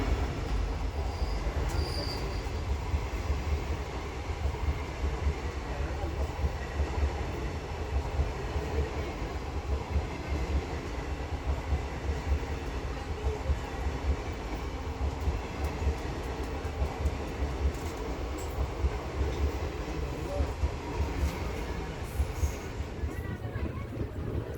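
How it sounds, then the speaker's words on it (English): Miraj Bikaner Weekly Express hauled by a WDP-4B diesel locomotive passing alongside, heard from aboard another train as a continuous rumble and clatter of wheels with faint squeals, steady and moderately loud throughout. "The Miraj Bikaner Weekly Express crossed us here with a WDP-4B diesel locomotive."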